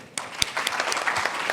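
An audience breaks into warm applause at a conference talk introduction, steady clapping from many hands that sustains evenly with a few sharper claps standing out nearby.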